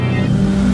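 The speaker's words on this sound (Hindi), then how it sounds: "आकाश भागते हुए अपनी गाड़ी के पास आया और वहां से शहर की तरफ निकल पड़ा।" Car engine revving and pulling away as the car drives off toward the city, a loud, steady low engine drone heard close up for a brief moment.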